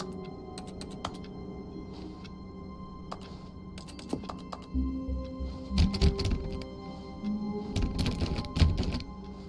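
Keys tapped on a computer keyboard inside The Stanley Parable video game, irregular clicks in scattered bursts that turn louder and denser toward the end, over a faint background hum.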